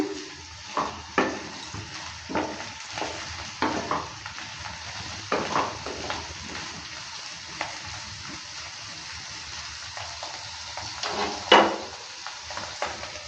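Teasel gourd and potato pieces fry in mustard oil while a spatula stirs them, giving a steady close sizzle broken by repeated scraping strokes against the pan, with a louder scrape near the end.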